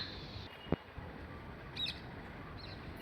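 A small bird, near parrots, gives a couple of faint, high chirps against quiet outdoor background noise, with a sharp click near the start.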